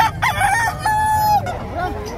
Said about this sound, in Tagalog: Ang daming manok na tinitinda, punta lang kayo rito.